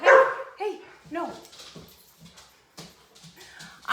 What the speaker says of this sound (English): My dogs are being really loud and I need to put them outside.